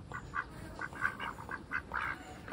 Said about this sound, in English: With a scary duck pack coming to get you.